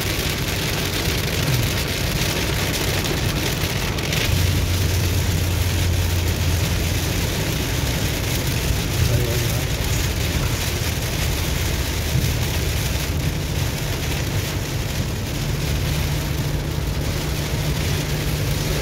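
Heavy rain in Saudi Arabia pours in a dense, loud, continuous roar, with a low rumble of passing traffic or engines mixed in underneath throughout.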